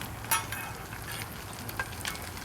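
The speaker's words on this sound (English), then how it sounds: "Fries much faster. You have oil covering the whole pastry." Empanadas fry in a pan with oil covering the pastry, giving a steady close sizzle and crackle with a few sharper pops throughout.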